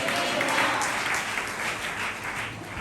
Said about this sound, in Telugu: చప్పట్లు కొట్టి దేవుడిని మహిమ.